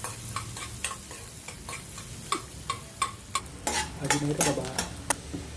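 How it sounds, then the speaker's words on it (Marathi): Chopped onion frying in a pan for an egg masala, steady sizzling under repeated sharp clicks and scrapes of a spoon stirring against the pan, growing busier toward the end. "कांदा छान प्रकारे फ्राय झाला"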